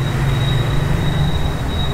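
A train runs over a railway tunnel beside a station in Pabna on a rainy day, a loud, steady close rumble of wheels with a thin, sustained high whine over it.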